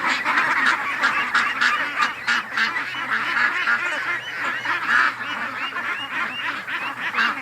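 Ducks and geese in a pen at feeding time quack and honk continuously, a dense, loud flock chorus with overlapping calls and no pauses.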